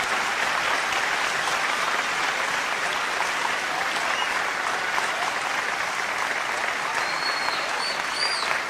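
Sustained, dense applause from a poetry recital audience fills the whole stretch at steady loudness, with no speech above it.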